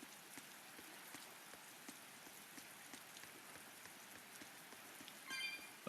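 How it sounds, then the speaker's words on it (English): Quiet, steady rain falls throughout a scene in the video game Tales of Berseria, with soft patters of drops on surfaces at an even, gentle level and a brief slight swell near the end. "Nice quiet rain ambiance."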